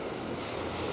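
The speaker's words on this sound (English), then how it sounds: "the waves here are very big," Big, rough ocean surf rolls in a steady broadband wash at Lookout Cay beach, with wind buffeting the microphone and no voices.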